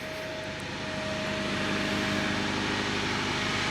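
A 1997 Honda Civic with a D16 VTEC engine idles as it warms up, giving a steady, even drone with a faint constant whine and no talking.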